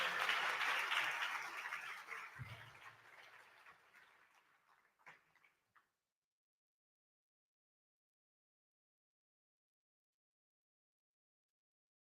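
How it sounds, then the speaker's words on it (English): Audience applause closing a panel discussion at a conference, a dense wash of clapping that fades out over about six seconds, with a few scattered final claps before silence. "So give them once again a round of applause"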